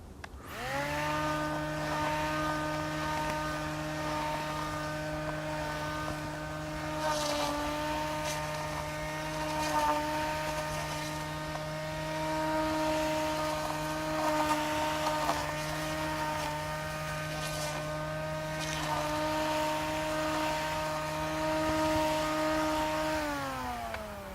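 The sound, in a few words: electric string trimmer running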